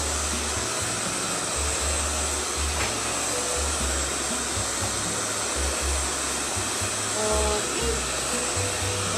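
A hair dryer drying a silkscreen print blows with a steady, loud whoosh, its motor pitch wavering slightly as it runs continuously; one brief spoken word.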